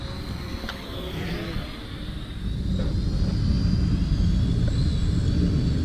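Goolrc S161 drone flying outdoors in wind, its steady motor whine running under a broad rumbling wind noise that grows louder partway through, heard alone without talk.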